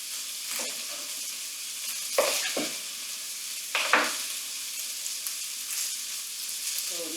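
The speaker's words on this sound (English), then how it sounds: "once our moose meat is finished browning" Moose meat browning in a pan for stew, a soft, steady sizzle with a few louder bursts of spitting and stirring scrapes, close and otherwise alone.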